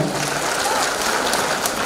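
A crowd applauds at an outdoor regional festival, a dense, even wash of clapping that continues steadily throughout the short moment with no voices.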